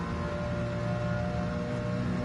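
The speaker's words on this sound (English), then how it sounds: "I gotta say, this Civic sounds really good." A steady, droning car engine hums at constant revs with a bassy tone, no voices, unbroken throughout.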